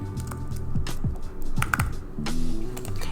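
Fingers tapping card details into a computer keyboard, a quick close run of light clicks over a few seconds, with no talking.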